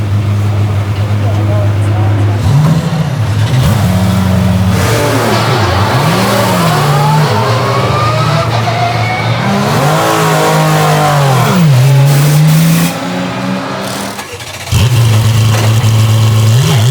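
A Porsche Cup race car sits near at idle, then revs hard several times with rising and falling engine sweeps before settling back to a steady loud idle, while voices talk faintly underneath.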